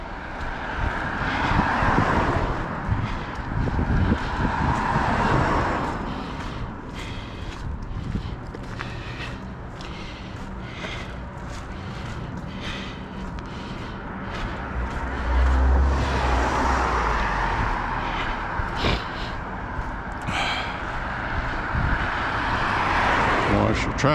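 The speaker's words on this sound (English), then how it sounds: "Watch the traffic." City street traffic in Lewiston, Maine, with cars swelling past and fading, plus footsteps and a voice talking over the steady roadway noise.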